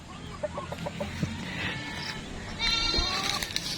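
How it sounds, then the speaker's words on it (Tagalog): Soft, short clucks from a hen mixed with bleating farm animals and rustling nearby, fairly faint, with a voice speaking briefly. "Ito yung ating bulik na inahin"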